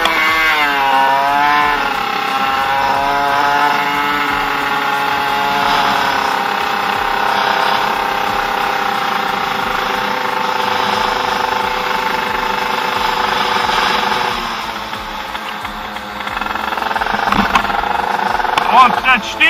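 A Yamaha Aerox moped engine started and running without its water pump, a loud steady buzzing drone that holds a strained, rising tone before dipping briefly near the end.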